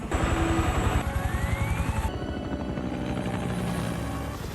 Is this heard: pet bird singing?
no